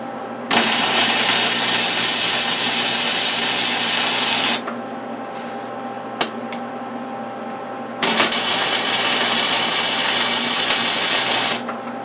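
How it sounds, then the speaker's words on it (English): MIG welding on a steel support beam for a deer feeder produces a steady, loud hissing crackle in two long bursts separated by a quieter pause, with a brief pop in the gap. "So let's weld this up right now."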